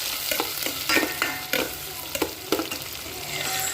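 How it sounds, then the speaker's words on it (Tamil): Onions and curry leaves sauté in a hot pan, a steady sizzle broken by several distinct scraping stirs of a spatula at regular intervals, close and alone with no voices. "வெங்காயம் நல்லா பொன்னிறமாக ஆகிற வரைக்கும் நல்லா வதக்கிக்கலாம்."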